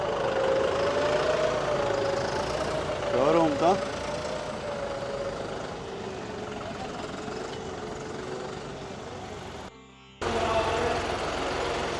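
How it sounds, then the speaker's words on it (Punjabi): A new John Deere tractor engine idles steadily with a low rumble throughout, while people talk nearby at a pre-delivery check; the sound cuts out briefly near the end before resuming. "ਆ ਗਿਆ ਆਪਣੇ ਵਾਲਾ ਟਰੈਕਟਰ"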